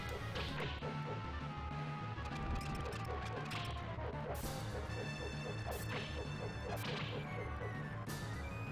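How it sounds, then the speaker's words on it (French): Whip strikes land on robots in a video game, sharp cracking smacks repeating over dense, loud game music and mechanical effects throughout. "Voilà un coup de fouet là"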